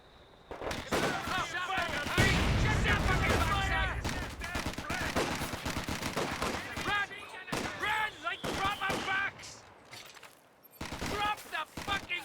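Mortar and artillery barrage fire erupts in the Company of Heroes 2 war game: rapid overlapping blasts and crackling gunfire, heaviest early and then coming in repeated bursts, with soldier voices calling out in between.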